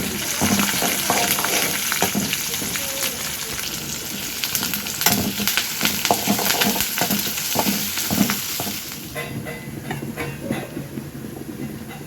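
Onion, green chillies and garlic frying in hot oil for a tempering: a steady, close sizzle with frequent scraping and stirring strokes against the pan, continuous throughout.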